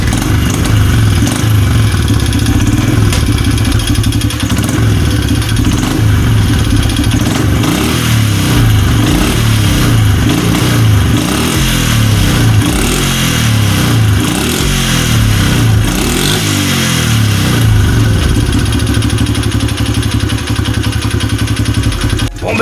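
A Honda CRF 70 motorcycle engine runs steadily after a fresh service with valve clearance set, a loud, close, continuous mid-pitched putter with slight revving swells and mechanical clatter, no voices over it.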